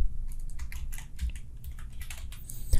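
Rapid clattering keystrokes on a computer keyboard as the word Walmart is typed into a text field, steady close taps with a slightly louder key strike near the end, no talking.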